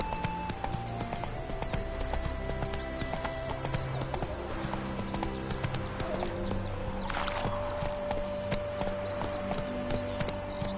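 Roach, the horse in The Witcher 3: Hearts of Stone, trots with steady, even clip-clopping hooves over a continuous bed of game music and ambience.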